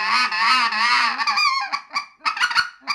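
Power Calls Spark goose call made of African Blackwood, blown close and loud: a long wavering honk followed by a string of short, sharp clucks and honks in quick rhythm, with no talking.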